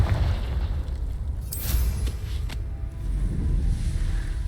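A Confringo explosion spell goes off in Hogwarts Legacy, a low rumbling blast with a couple of sharp crackling bursts in the middle, heard over a steady game background with no talking.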